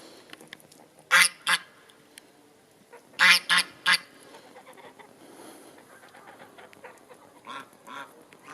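Geese honk outdoors in short bursts: one call, a tight cluster of three or four, then a few fainter honks later, fairly close with quiet ambience between.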